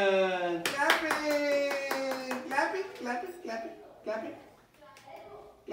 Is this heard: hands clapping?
yes